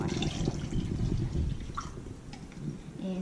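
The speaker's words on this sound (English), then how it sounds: "we are going to add in 2 cups of water" Water poured into a pickle brine of dissolved sugar and salt, a steady close liquid splash and trickle running through the whole pour with slight dripping.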